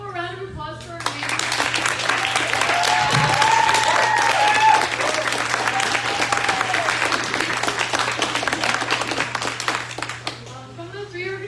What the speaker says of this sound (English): Can we get one more round of applause for our amazing